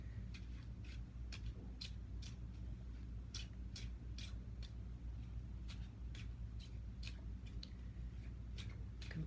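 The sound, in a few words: shuffling a deck of tarot cards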